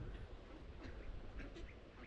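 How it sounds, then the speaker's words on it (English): A flock of ducks quacks faintly in the distance, scattered calls over a low outdoor rumble, with no voices. "So many ducks."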